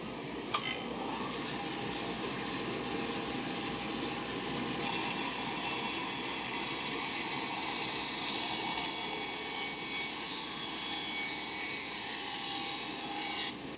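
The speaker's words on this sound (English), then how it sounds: "make sure that I apply good pressure against the fence as I'm making the cut" A bandsaw rips a wooden beading strip against the fence, a steady close rasping and whine of the blade cutting continuously through the wood with no talk.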